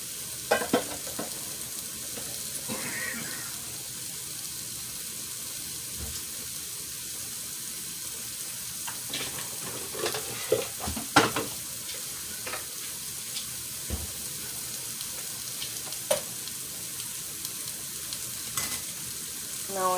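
Rice frying in a pan under steady low sizzling, with scattered clinks and scrapes of a utensil stirring at irregular intervals, close and fairly quiet, no speech.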